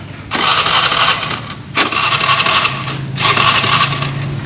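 Motorcycle engine started by a mechanic after a CDI ignition repair: an electric starter cranks, the engine catches and runs in loud bursts with brief pauses between attempts, close and with no talking.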